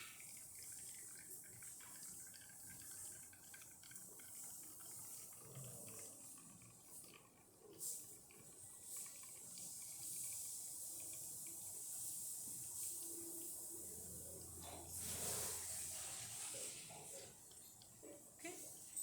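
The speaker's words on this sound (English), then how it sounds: "there's water coming out of the machine and that it is able to brew" An Olympia Cremina lever espresso machine brews a test shot after a full service. A soft, quiet trickle and gurgle of water rises and falls under low background noise, with a brief louder spurt near the end.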